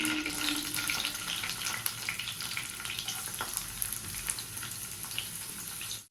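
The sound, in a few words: onions frying in ghee for biryani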